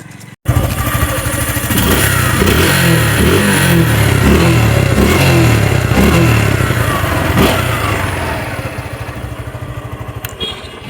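Suzuki Gixxer FI ABS motorcycle, a 2023 model in good condition, revving steadily up close and loud, the engine rising and falling before easing toward idle.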